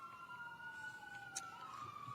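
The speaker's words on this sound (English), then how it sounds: "I'm going to wait for the sirens to pass" Faint sirens from passing emergency vehicles wail in a steady gliding tone at a distance outside a press conference, quiet and continuous with no talk.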